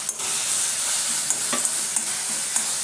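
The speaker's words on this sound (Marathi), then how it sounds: "जिरं फुललं की यामध्ये आता हे आपण वाटून घेतलेली पेस्ट टाकणार आहे" Ground spice paste fries in hot oil with cumin seeds, a dense, bright, steady sizzle heard up close, punctuated by a few faint clicks of a stirring spoon and no voices.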